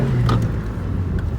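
A 2001 Saturn SC2 engine, freshly tuned up, runs with a loud, steady low rumble that swells slightly near the start, close by and without talk.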